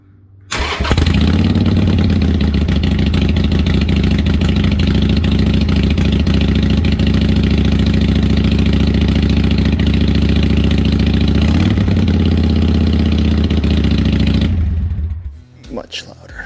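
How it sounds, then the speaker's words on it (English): A Harley-Davidson Iron 883 fitted with Vance and Hines Twin Slash 3-inch slip-on exhausts fires up and settles into a loud, deep, steady idle close by, then shuts off and winds down near the end. "Now let's turn on the exhaust to see what it sounds like."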